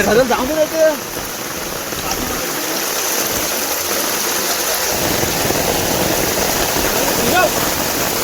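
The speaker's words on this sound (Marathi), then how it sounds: "पाऊस जाम आहे" Heavy monsoon rain pours steadily over a flooded Konkan village, a dense continuous wash with a few brief voices over it near the start.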